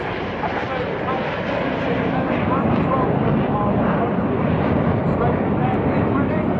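Red Arrows display jets roar continuously overhead during corkscrew formation rolls at the Bournemouth airshow, a loud, sustained, rumbling jet noise that holds steady throughout.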